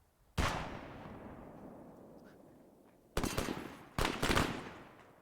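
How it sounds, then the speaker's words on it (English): Gunfire in the video game Arma 3: a sharp burst of shots at the start with a long decaying tail, then two more loud bursts near the end, close and alone. "Yeah, they're now shooting us."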